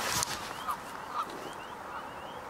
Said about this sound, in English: A couple Canada geese.